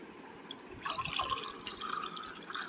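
Homemade mango drink pours from a jug into a glass, a soft liquid splash and trickle that swells and then tapers into light drips, close and fairly quiet.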